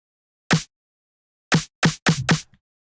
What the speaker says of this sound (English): For this snare, I'm using a disco snare sample